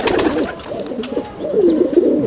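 Pigeons kept for breeding on a rooftop in Jammu and Kashmir coo in soft, repeated throaty calls that continue close by with no talking.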